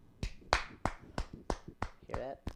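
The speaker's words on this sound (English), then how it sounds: "I'm applauding you right now." A person claps their hands in applause: about eight sharp, close claps in a steady rhythm, with a brief vocal sound near the end.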